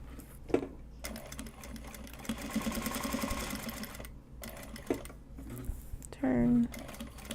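A close sewing machine stitches card holders made from Japanese fabric in short bursts of rapid mechanical clatter, broken by pauses, small clicks and a voice speaking.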